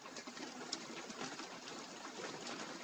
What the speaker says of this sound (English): It's raining, I'm sure you probably hear it.